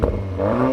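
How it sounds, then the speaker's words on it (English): A 2024 Audi S3 with a performance exhaust gives a short, deep engine rev, close and fairly loud with a low rumbling growl. "now let's have a listen to the performance exhaust"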